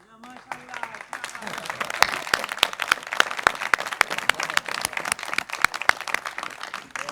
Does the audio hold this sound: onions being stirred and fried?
no